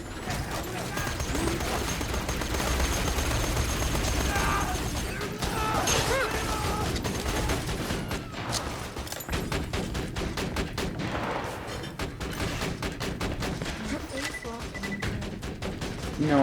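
A sentry gun in the Borderlands 2 video game fires sustained rapid bursts, with dense overlapping gunfire and mechanical clatter running throughout under excited player voices.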